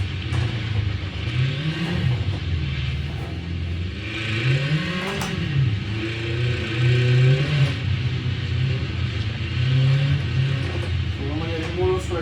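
A car engine on a snowy test circuit revs and accelerates in repeated rising and falling surges, loud and close for the whole stretch, with a steady whirring drone beneath.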